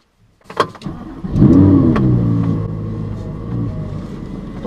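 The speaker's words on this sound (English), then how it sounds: "Always sounds good on a cold start." An Audi R8 V10 Plus cold-starts: a starter whirrs briefly, then the engine catches with a loud, rising flare and settles into a high, steady rumbling idle, heard close with no talk.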